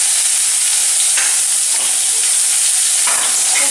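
A loud, dense sizzle of onion, garlic, ginger and chili paste being sautéed in a pan, continuous and close, with soft stirring scrapes rising through it.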